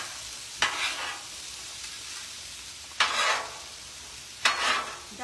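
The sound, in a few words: pork chops and vegetables stirred, sizzling on a Blackstone griddle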